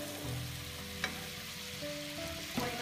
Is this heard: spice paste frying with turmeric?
yes